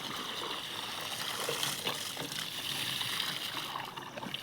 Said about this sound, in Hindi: इस मम्मी पानी लगा रही है खेत पे सब्जियों में